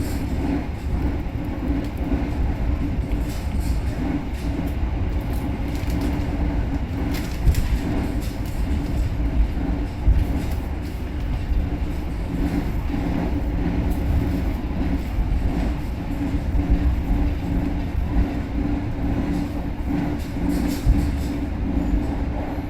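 A passenger train runs on rails past teak forest, a steady close rumble of wheels with faint rhythmic clatter throughout, heard from on board.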